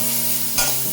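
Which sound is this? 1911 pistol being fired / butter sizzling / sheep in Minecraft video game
butter sizzling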